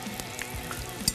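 Tempura-battered zucchini flowers frying in a pan of oil, a steady close sizzle with small crackles and spits running throughout, no voices.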